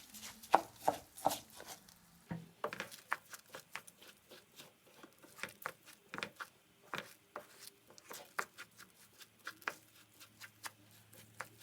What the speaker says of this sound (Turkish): dereotumu ve maydanozumu incecik kıydıktan sonra ekliyorum